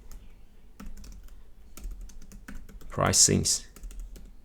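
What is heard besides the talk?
typing on a computer keyboard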